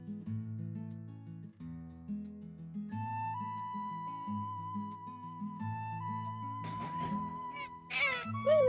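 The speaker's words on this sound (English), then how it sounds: "Meet my cat Mimi" Soft piano-like music plays throughout, then a cat meows a couple of times near the end, close and fairly clear.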